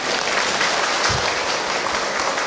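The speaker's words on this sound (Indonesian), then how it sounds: "Tepuk tangan atuh." Brief burst of steady audience clapping during a religious lecture, a dense wash of many hands heard near and fairly loud with no speech over it.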